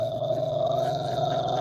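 Rottweiler dog growling, a low, steady, sustained rumble held close and loud for a short stretch with no break.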